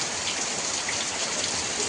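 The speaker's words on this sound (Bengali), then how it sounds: "কর্তামশাই যাওয়ার থেকে একটানা এরকম বৃষ্টি হতেই আছে" Heavy continuous rain pours down in a dense, steady hiss of drops beating on surfaces, loud and unbroken, with no voices.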